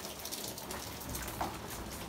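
Steady rain falls outdoors around a two-story, four-bedroom house under a rough plumbing inspection, a continuous soft hiss of drops at even, moderate loudness with no pauses.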